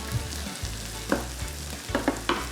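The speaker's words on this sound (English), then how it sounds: "We'll let it stir together for next little bit" Curry chicken stirred in a hot pan, a steady close sizzle with scattered spoon scrapes and clinks, no voices.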